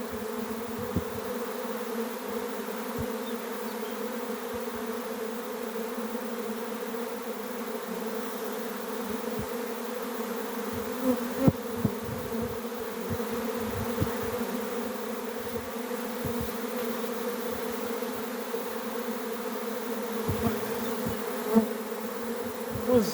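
A honey bee swarm drones steadily at an apiary where it has settled in a small apple tree, a dense continuous buzz of many insects that stays loud and even throughout with no talking.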